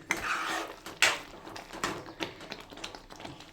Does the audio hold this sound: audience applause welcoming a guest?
no